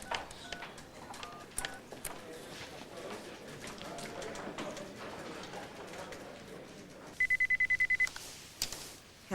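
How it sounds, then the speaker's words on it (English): A phone being dialed: a brief, evenly spaced series of clear tone beeps near the end, after background footsteps and room noise with some talk. "No, I gotta make a phone call."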